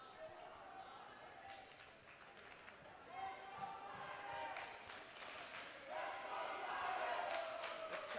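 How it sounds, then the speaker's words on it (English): Spectators at a boys' varsity volleyball match between Palatine and Schaumburg chant and cheer back and forth in rival bursts, with rhythmic clapping and rising shouts over a steady crowd roar. "Little cheering war we got here"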